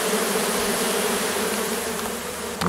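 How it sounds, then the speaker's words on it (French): A dense swarm of honeybees flowing down a tree trunk makes a loud, continuous buzzing drone, close and steady throughout with no voices. "Là, on voit le flot d'abeilles qui descend."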